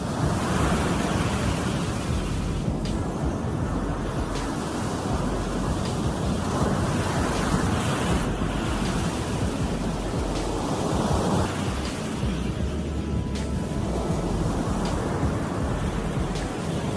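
Ocean surf rolls steadily onto a shore, a continuous broad wash of breaking waves with gentle swells and some wind buffeting, no voices.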